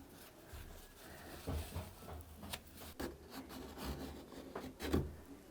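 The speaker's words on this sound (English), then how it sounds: "I'm just going to clean up the excess glue so it's out of the way." Excess wood glue being wiped off a wooden joint while building a custom mudroom closet and bench seat, with quiet intermittent rubbing and scuffing strokes and a few soft knocks, close and faint.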